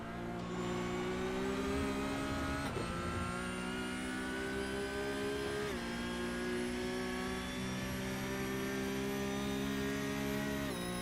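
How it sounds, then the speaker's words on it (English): Porsche Cup race cars at Monza scream up through the gears with a whining gearbox, a loud, sustained high engine note rising and dropping at each quick upshift, steady and close. "Love the sound of these cars screaming up through the gears. You can hear the gearbox whining away like mad."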